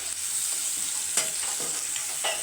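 Sliced onions frying with salt in a hot pan are stirred, a steady sizzle under a few scraping strokes of the spoon, close and alone with no talk.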